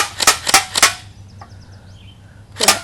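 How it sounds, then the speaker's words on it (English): An airsoft gun fires at a Coke can target, giving three quick sharp close pops, then a faint plink from the hit and another shot near the end. "I'm gonna shoot the target. Call of Duty POV. Shoot the Coke can."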